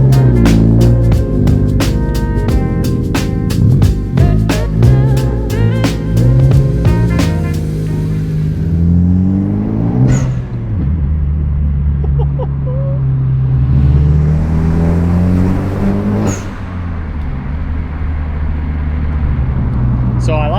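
A 10th-generation Honda Civic fitted with an HKS blow-off valve adapter drives with a loud, steady engine drone that climbs and falls through the gears, with sharp venting whooshes at shift points.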